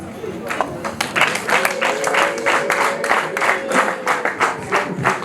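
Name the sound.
audience applause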